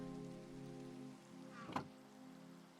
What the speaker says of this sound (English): It's just a rainy day and lightning.